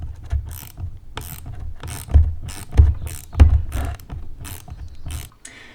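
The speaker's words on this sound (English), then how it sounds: "use this as a means of tightening down the bushing into the mount slowly and progressively" A nut is tightened with a ratchet to draw a suspension bushing into a shock mount on a Toyota Sequoia fitted with Old Man Emu long travel shocks. Close, rhythmic bursts of ratchet clicking run in steady strokes with no talk.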